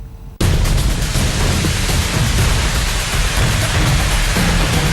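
Heavy monsoon rain pours down in Gujarat, India, bursting in after a brief quiet moment into a loud, dense, unbroken roar of falling water that continues steadily with no voices.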